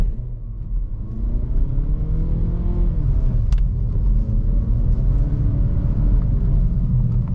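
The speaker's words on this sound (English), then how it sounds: "let's get a full throttle." A 2020 Mazda3 AWD engine held at full throttle in deep snow, a loud, steady close-up drone with rising and wavering pitch and a sharp click midway.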